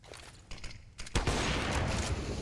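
Gunfire in Counter-Strike during a BLAST Premier pro match, a few quiet shots at first, then a loud sustained burst of firing with dense crackle that continues to the end.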